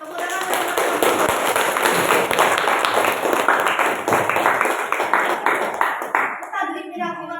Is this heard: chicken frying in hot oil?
no